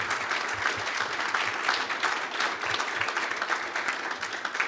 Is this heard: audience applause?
yes